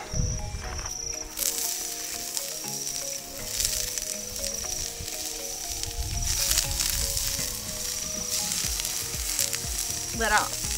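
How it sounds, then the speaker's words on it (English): Onions sizzle loudly and steadily on a small folding barbecue plate set straight over camp coals outdoors in the North Queensland outback, with occasional scraping from a utensil. "Onions fry for a little bit and then we'll chop some mince on."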